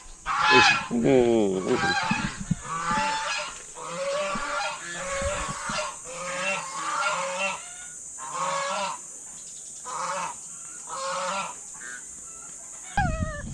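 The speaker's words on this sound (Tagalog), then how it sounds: "Mga ganso, pinakawalan nila" Released geese honk loudly and repeatedly at close range while chasing, giving a run of harsh, nasal calls in uneven bursts across the whole stretch.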